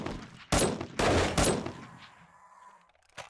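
Pistol shots in the zombie survival game 7 Days to Die during a blood moon, three loud sharp gunshots in quick succession, each with a ringing tail, then a fainter fourth shot after a pause.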